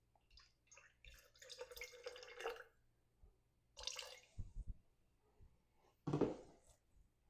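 Water, 6.5 ounces, is poured into a batched cocktail with Fernet Branca in short, faint splashing bursts and drips, separated by quiet pauses, without any talking.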